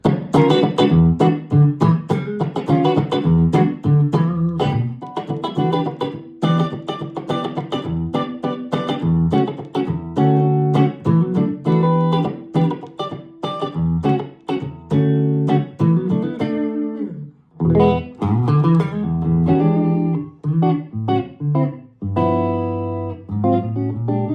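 An electric guitar played through a Fender Tone Master Pro amp modeler: a run of picked notes and chords with an amp-style tone, loud and close, with no voice.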